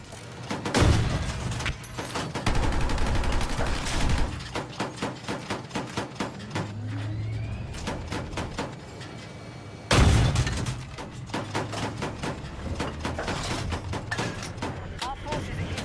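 Sniper gunfire cracks in a video game battle, with sharp repeated shots and booming blasts in bursts, some distant, mixed with heavy combat noise and occasional voices.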